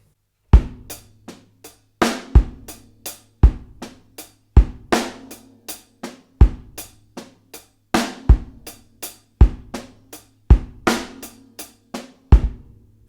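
Acoustic drum kit playing a two-bar linear groove, crisp separate hits of kick, snare and cymbals in a steady repeating pattern, close and loud with no other sounds.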